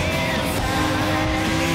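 Race car engine from the Gran Turismo Sport video game, a dense, loud, sustained drone with tire squeal layered over it and no pauses.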